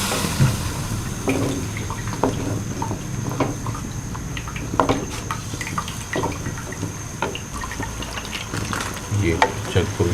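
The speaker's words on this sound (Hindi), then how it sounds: "अब मैं इसमें डालता हूँ ये दही और प्याज जो है इनका जो ब्लेंड करके मैंने पेस्ट बनाया" Blended yogurt and onion paste sizzling as it is added to mutton karahi in a pan, a moderate steady frying hiss with stirring and occasional clinks, under intermittent talk.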